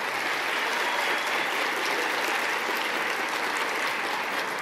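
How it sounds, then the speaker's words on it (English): An audience at an elementary school band performance applauds steadily throughout, a dense, even wash of clapping with no voices standing out. "one more round of applause for our elementary band"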